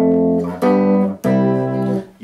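A I-IV-V-I chord progression played as sustained harmonic chords, four changes in quick succession with clear attacks at each new chord, close and fairly loud with no talking.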